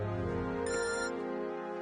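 A phone rings briefly for an incoming call, a bright electronic ringtone with steady tones sounding clearly for under two seconds, no voices over it.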